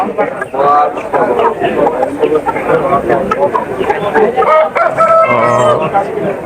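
Roosters crow at a busy poultry market, loud and close, with several overlapping calls rising over constant crowd chatter and clucking throughout.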